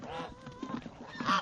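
Several geese honk in quick, uneven calls at close range, the harsh nasal cries overlapping and jumping to a louder, higher honk at the end.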